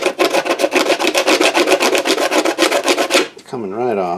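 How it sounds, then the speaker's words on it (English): A sticker peeled off a bicycle stereo ice chest makes a close, loud, rapid rasping rip in quick pulses for about three seconds, then stops, followed by a brief tonal sound. "I've almost got the sticker off"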